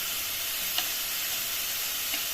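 Tomatoes hit hot oil for a fish curry, giving a loud, even sizzle that holds steady throughout, with a couple of faint utensil taps and no voices.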